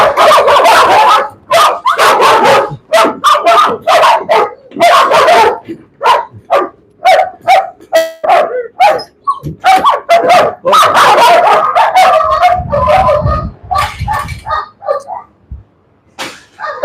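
A dog barks loudly and repeatedly in rapid, insistent bursts during nighttime bite work training, close by, with brief pauses and a low rumble near the end.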